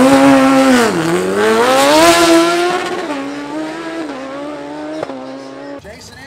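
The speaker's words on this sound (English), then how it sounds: "Jason Anthony in left lane, only a second gen Camaro shootout right here" Second-generation Camaro Z28 race cars compete side by side at Chi-Town's KOTS event. Loud, roaring engines rise and fall in pitch with a continuous close-up howl that fades toward the end.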